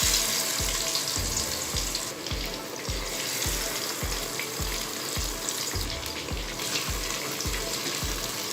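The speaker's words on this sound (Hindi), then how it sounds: "इसी मेथड को यूज़ करते हुए हम बाकी फ़िश को भी फ्राई कर लेंगे।" Fish frying in hot oil for Lahori fish fry, a steady dense sizzle filling the scene, with a faint regular low thump repeating underneath, no voices.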